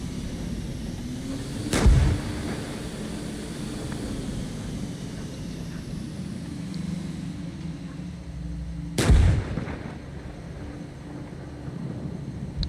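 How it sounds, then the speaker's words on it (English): Two loud, sharp gunfire blasts from the tank combat game Gunner HEAT PC, about seven seconds apart, ring out over a steady low engine rumble. "Stop fucking shooting."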